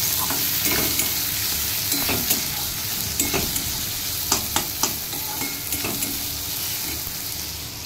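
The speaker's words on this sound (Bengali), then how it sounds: "এখানে দেখতেই পাচ্ছ আমি পেঁয়াজ ভেজে নিচ্ছি" Sliced onions fry in hot oil for egg biryani, giving a steady close sizzle broken by repeated sharp spatula scrapes and clicks against the pan.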